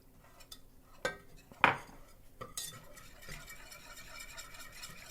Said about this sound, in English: Whisk in the flour. Whisk in the milk.